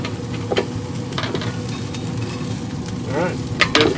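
Bacon sizzles and crackles steadily in a frying pan, a dense continuous hiss with occasional scrapes and pops, close and fairly loud with no talking.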